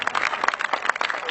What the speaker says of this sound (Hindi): ताली कम मत कीजिए।